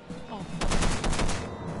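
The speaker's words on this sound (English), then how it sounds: "We're taking fire! We're taking fire!" Rapid gunfire crackles in the video game Content Warning as a dense, loud burst of repeated shots that lasts under two seconds.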